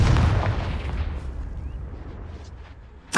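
Confringo fire spell in Hogwarts Legacy, a deep booming blast at the start that fades into a low rumble, followed by a sharp burst at the very end.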